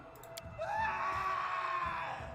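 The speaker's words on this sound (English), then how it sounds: "a scream echoes from the hallway" A scream echoing down a hallway in the video game Pathfinder: Kingmaker, a long, rising, then sustained wail that lasts about two seconds over a low background hum, preceded by a few faint clicks.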